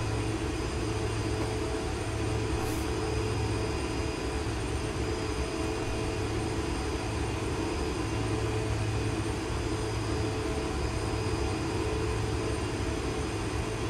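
A light aircraft engine drones steadily while on a visual approach in the flight simulator X-Plane 11, a constant, even, broadband roar with no change in pitch or loudness and no voices.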